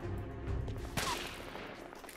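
Gunfire in the video game The Order: 1886, a single sharp shot cracking out mid-clip over a low rumbling game soundscape, with no talk.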